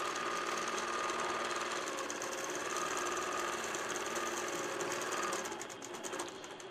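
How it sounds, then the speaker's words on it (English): An Innova AutoPilot Mach 3 longarm quilting machine stitches steadily, a loud continuous mechanical whir with a rapid needle clatter that holds for most of the stretch, then eases slightly near the end. No one speaks. "And it's going to stitch around its first little section that it's going to do."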